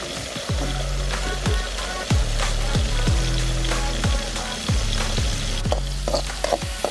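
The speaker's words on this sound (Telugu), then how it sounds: "ఇగో ఈ విధానంగా అయ్యేదాకా వేంపుకోవాలి" Green kalimi fruits fry in oil in a village kitchen, a loud continuous sizzle broken by regular thumps and scrapes of stirring, about one every half second, with no voices.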